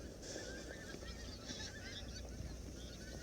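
Tundra bean geese call in winter, a faint flock giving repeated nasal honks at a distance over a steady outdoor hush.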